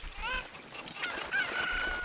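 Chicken in the video game Ocarina of Time, a few short clucks and squawks with brief rising calls, set against a quiet game background.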